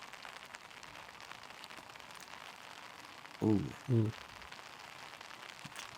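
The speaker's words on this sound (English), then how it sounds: "A little rain," Rain falls steadily with wind on a disc golf course during a professional tournament round in South Florida, a continuous close hiss broken by two brief voiced exclamations.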